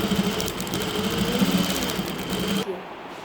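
Sewing machine stitching a heavy design on fabric, running at a steady rapid rhythm close by, then cutting off abruptly near the end, with faint talking underneath.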